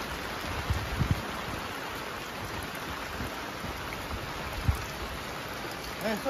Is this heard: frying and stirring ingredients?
no